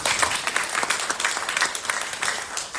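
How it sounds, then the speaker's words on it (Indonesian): A crowd applauds with dense, steady clapping that carries on throughout, fairly loud and close, at an Indonesian football league announcement event. "Tepuk tangan buat Liga."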